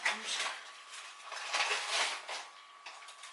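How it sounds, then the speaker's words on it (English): A spoon scrapes and clinks steadily around a bowl as icing sugar is mixed in by hand while baking, a continuous close gritty stirring with small swells. "And then I'm just going to mix it round by hand with a spoon."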